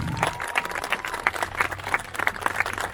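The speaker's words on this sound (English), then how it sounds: "give them all a big round of applause" Outdoor audience applause for Viking re-enactors at Dumbarton Castle, a steady, dense wash of many hands clapping with crowd noise mixed in, continuing at an even level throughout.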